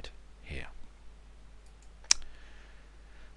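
A mouse click lands on a file system option in a computer storage interface, one sharp single click after a brief murmur of speech.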